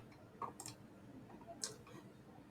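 Mouse clicks from selecting cells in an Excel spreadsheet, a few faint, sharp clicks spaced apart against quiet room tone.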